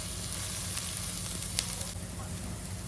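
Two chopped onions sauté in a pan with ivy gourd for a kovakka fry, giving a loud, steady, close sizzle with a few brief crackles and stirring scrapes and no talking.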